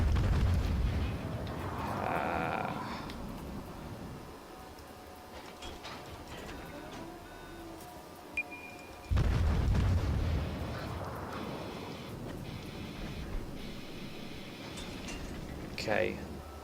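Warship naval guns in the video game World of Warships: two heavy, rumbling booms about nine seconds apart, each fading into a low roar, with quieter battle noise between them.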